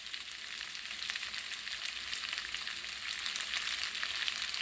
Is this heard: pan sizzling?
yes